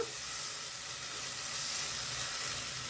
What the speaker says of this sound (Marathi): ग्रीन पेस्ट आपण परतवून घेतली आहे